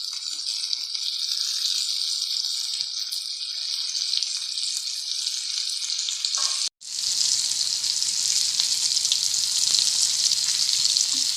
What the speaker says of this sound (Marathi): मच्छी सर्व तव्यामध्ये ठेवल्यावर थोडंसं बाजूने तेल सोडून घ्यायचं